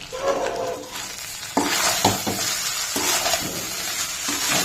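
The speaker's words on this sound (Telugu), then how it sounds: "వేసుకొని దీన్ని నీట్గా మిక్స్ చేసుకోవాలండి" Boiled rice being stirred and mixed with gongura for pulihora, giving soft scraping and stirring sounds with a few sharper knocks of the spoon against the vessel, close and continuous.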